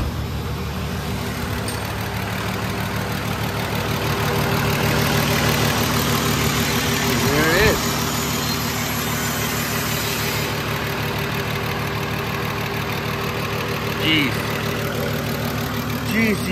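A VR6 Jetta idles steadily just after its first start following a dead battery and jump, a low continuous rumble with faint voices over it.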